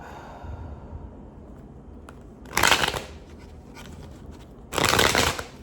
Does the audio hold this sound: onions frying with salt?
no